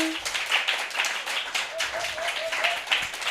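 A room full of audience members applauds a speaker named Lauren at a talk, with steady close clapping sustained throughout the short stretch at moderate loudness.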